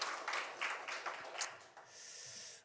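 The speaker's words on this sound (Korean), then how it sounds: "우리 하나님께 영광의 박수 올려드릴까요?" Congregation applause during a Sunday church worship service, a broad wash of many hands clapping that swells and fades in soft pulses, then thins to a steadier hiss near the end; fairly faint and distant.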